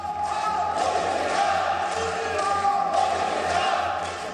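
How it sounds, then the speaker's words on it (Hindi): A crowd greets India's Prime Minister Modi in Parliament with loud, steady cheering and chanted slogans that hold at an even level throughout, with raised voices blending into a dense roar. "ये नारे प्रधानमंत्री का अभिनंदन है।"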